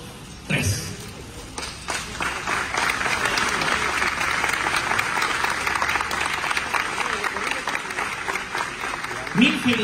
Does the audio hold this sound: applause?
yes